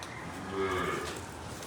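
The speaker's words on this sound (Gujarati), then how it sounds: "આ રહ્યા એક ગાય" A cow moos once, a low drawn-out call inside a cow shelter (gaushala), heard clearly but at moderate distance with faint background ambience.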